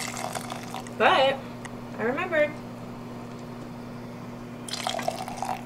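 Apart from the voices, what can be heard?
scooping and pouring pasta water into a cup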